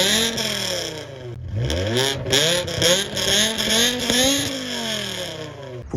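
A BMW M6 E63 V10 with an X-pipe, straight-pipe exhaust and only the stock rear silencer revs repeatedly, sharp rising and falling blips close by, loud and raspy with no talk.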